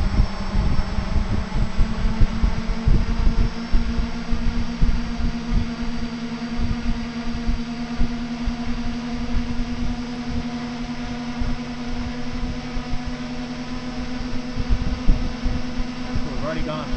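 A drone motor spins up to about half throttle, giving a steady, fairly loud whirring hum with a constant tonal drone that holds evenly throughout.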